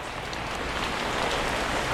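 Steady heavy rain pours down in a constant dense hiss, close and loud, with no voices.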